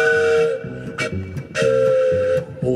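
A person imitates a lonesome train whistle in a country song, giving two sustained wailing whistle blasts over a steady strummed guitar rhythm, close and fairly loud.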